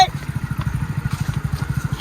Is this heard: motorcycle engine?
yes